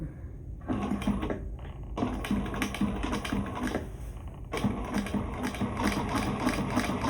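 A sewing machine sews across fabric to baste a shoulder bag, a close, steady rattling whir broken by two short stops and restarts.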